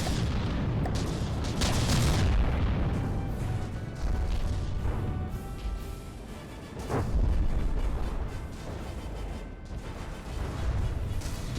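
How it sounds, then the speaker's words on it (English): Disruptor shells pound a ship in the naval combat game From the Depths, a dense barrage of heavy booms and crashing impacts rolling continuously over several seconds. "There's a round of disruptors hitting it."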